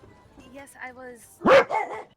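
A dog barks a few loud times near the end of a tabletop game session, after quieter speech from people talking nearby.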